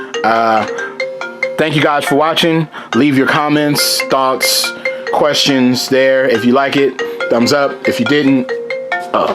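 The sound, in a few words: mobile phone ringtone ringing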